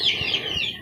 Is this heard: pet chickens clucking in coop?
yes